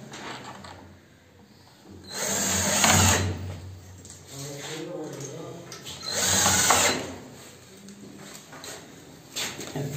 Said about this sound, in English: The fittings he's screwing now.